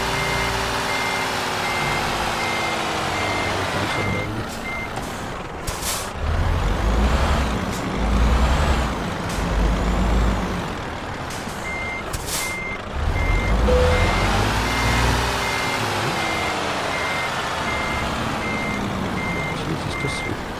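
Reversing beeps from a truck parking at night in Euro Truck Simulator 2, steady repeated tones over a low engine rumble with hisses of air brakes, no talking.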